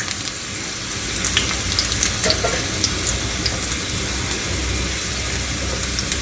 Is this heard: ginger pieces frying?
yes